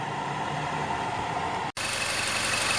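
A 2007 Mazda CX-7 engine idles steadily after a thermostat replacement, giving an even, close mechanical hum with one brief dropout partway through.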